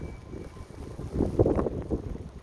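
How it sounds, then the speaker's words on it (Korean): Strong wind gusting during heavy snowfall outdoors, a low broadband rushing and buffeting that swells in the middle and then eases, loud and close against the microphone. "바람이 너무 많이 불어 와 진짜 대박이다"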